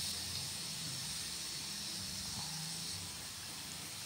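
Grated cabbage and carrot dropped into a little hot oil tempered with mustard seeds: a loud, dense, steady hiss of frying that stays constant from start to finish, close up, with no speech.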